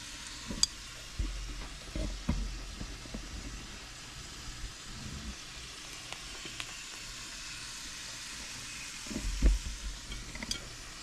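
Onion frying in a pan for a steak, egg and cheese bagel gives a faint, steady sizzle, with occasional stirring clatter and soft knocks over a quiet background.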